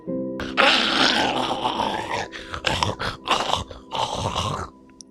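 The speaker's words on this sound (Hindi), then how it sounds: "इस बार किसी के गुर्राने की थी।" A deep, rough growl rumbles in several bursts, loud and close, rising and falling in uneven surges with brief pauses between.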